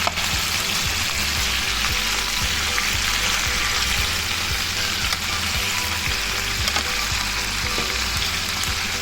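Chicken pieces fry in a crowded pan in a steady, dense sizzle that stays loud and close throughout, with faint crackles and no talking.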